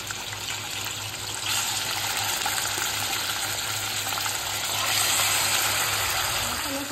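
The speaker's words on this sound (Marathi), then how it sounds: "आता आपण फिशला फ्राय करूया।" Fish sizzling in hot oil in a pan while being fried for a Manipuri fish curry, a steady close hiss and crackle that swells slightly partway through, with no talk.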